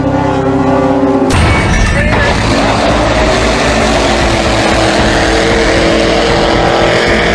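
Loud, roaring engines of racing powerboats surge in abruptly after a tonal opening down a starting straightaway, staying close and intense throughout, with a voice faintly under the noise.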